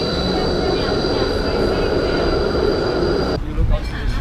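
Rumbling interior noise of a train ride in Melbourne, a steady broadband roar with a faint high whine, shifting near the end as the carriage slows; a voice is faintly present beneath it.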